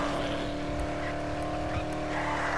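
A car drives in the zombie video game Dead Island, its engine giving a steady droning hum throughout, close and continuous, with faint game noise mixed in.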